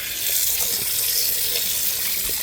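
Tap water runs steadily into a kitchen sink while brined chicken is rinsed, a close continuous splashing hiss with faint irregular spatters and no talk.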